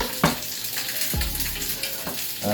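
Ramen bones brown in a hot pot with a continuous, moderate sizzle, broken by two or three short scraping sweeps close by.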